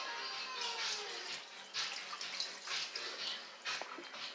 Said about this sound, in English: we have to pour a little bit out